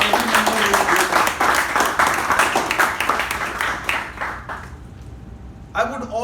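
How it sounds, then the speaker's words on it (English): An audience at a club meeting's installation ceremony applauds club members, with dense, steady clapping that fades after about four seconds, then a brief burst of renewed clapping near the end. "let's clap for every member."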